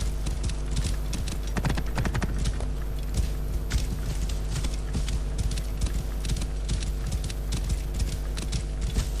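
Horse hooves clip-clop steadily on the ground in Assassin's Creed Origins, a continuous rhythmic trot that stays close and fairly loud over a constant low ambient hum, with no talking.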